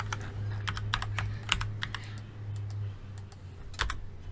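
Quick, light taps on a computer keyboard entering Blender shortcut keys, a scattered series of close clicks over a low steady hum.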